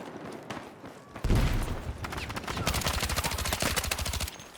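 Rapid bursts of SGX submachine gun fire in Battlefield 6, sharp close cracks in quick rattling strings with a few scattered shots before, sustained automatic fire through most of the stretch.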